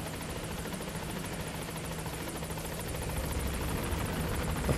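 A helicopter in the video game Metal Gear Solid V: The Phantom Pain drones with a steady, dense rotor wash, holding close and even and swelling slightly louder toward the end, with no voices.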